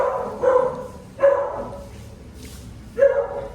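A dog barks three times at irregular intervals, fairly close, with quiet background between barks.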